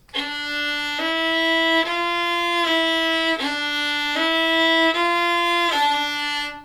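A violin plays long, steady bowed notes in a slow, even sequence, each tone clear and sustained with smooth transitions between them.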